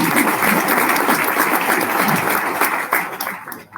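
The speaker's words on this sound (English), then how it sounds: "Please give yourselves a round of applause." An event audience applauds at a civility project launch, a loud, dense wash of clapping that holds steady throughout before thinning slightly at the very end.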